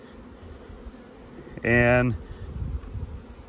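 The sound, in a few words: honey bees buzzing around hive frame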